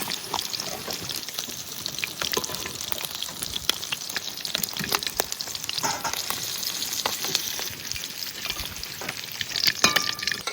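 Ginger and garlic paste frying in oil in a pan, a steady close sizzle with crackles and occasional stirring scrapes throughout, no talking.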